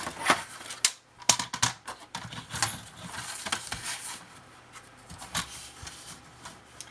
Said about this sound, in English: So I'm going to cut this strip.